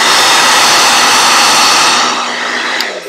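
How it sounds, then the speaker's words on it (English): Solia Thermal Ionic hair dryer running on its low airflow setting, a loud, close, steady broadband rush of blowing air that holds for a few seconds, then eases slightly near the end, with no talking. "So I'll put it on the low airflow setting, and then I'll put it on the high so you guys can hear the difference"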